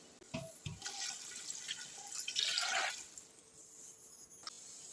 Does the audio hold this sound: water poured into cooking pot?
yes